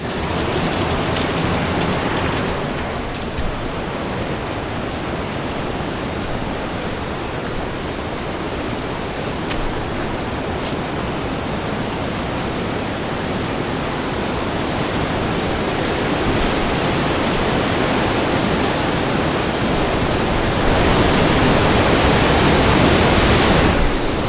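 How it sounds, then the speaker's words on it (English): Steady, loud rush of the Nevada Fall waterfall in Yosemite during spring rain, a continuous broadband roar that holds close and constant throughout, swelling slightly louder near the end. "we get a waterfall of our own here"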